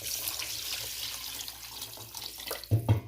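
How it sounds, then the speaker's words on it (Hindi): Water pours steadily into a pot of fried masala and tomatoes during biryani pulao cooking. The flow is a soft running stream that ends in a couple of louder splashes, with no talk. "अब मैं इसमें पानी ऐड करने लगी हूँ"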